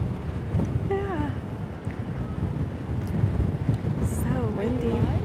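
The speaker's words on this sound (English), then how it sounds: "So windy." Wind gusts across the open deck of the cruise ship Enchanted Princess during sailaway from Halifax, Nova Scotia, a steady rumbling buffet on the microphone while several people chat nearby throughout.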